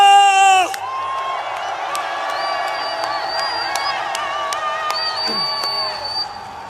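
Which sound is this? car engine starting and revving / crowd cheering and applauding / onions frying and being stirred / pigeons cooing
crowd cheering and applauding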